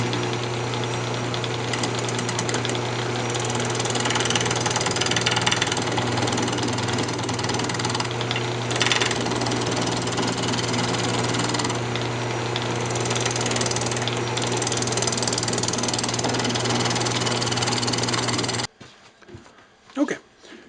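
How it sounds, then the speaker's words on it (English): A wood lathe spins a glued segmented bowl as a roughing gouge trues it, giving a steady, loud motor drone with rough cutting chatter for about nineteen seconds before it stops abruptly, leaving faint knocks. "I'm just going to use a roughing gouge."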